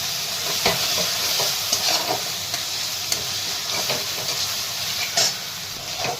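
Ivy gourd sautés in oil with a dense, hissing sizzle and repeated scraping stirs at a loose rhythm, close and fairly loud throughout, without any voices.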